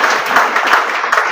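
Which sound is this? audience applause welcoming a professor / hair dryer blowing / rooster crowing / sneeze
audience applause welcoming a professor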